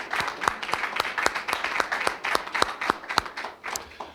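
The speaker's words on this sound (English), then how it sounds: "would you give them another round of applause, please?" Steady applause from a crowd, with sharp, distinct claps repeating at a brisk rhythm, fairly loud and close, with no voices.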